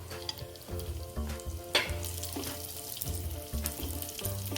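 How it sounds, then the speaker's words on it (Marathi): Cashew and almond slices fry in a tablespoon of ghee for a sweet filling, a steady close sizzle broken by scraping stirs and occasional sharper crackles, with no voices. "तूप टाकते मी एक टेबल स्पून टाकते काजू बदामचे काप आपण परतून घेऊ आधी"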